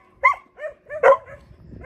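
Dogs at an animal shelter give several short barks and yips in an uneven burst, close by and moderately loud, with a brief whimpering tone between them.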